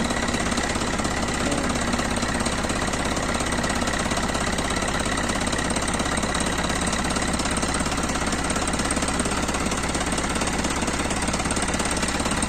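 Steady, loud diesel engine idle with a rough, rapid knocking clatter that runs unbroken throughout, close up and with no voices.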